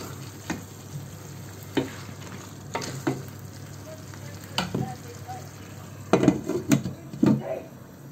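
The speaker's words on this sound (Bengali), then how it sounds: "এই যে এখন আমি এটাকে কষিয়ে নেব মশলার সাথে।" Beef tongue fries in a pan with spices, sizzling steadily while a utensil stirs and scrapes against the pan in repeated clatters that grow busier toward the end, with no talk.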